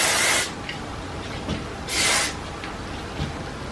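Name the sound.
hair spray being sprayed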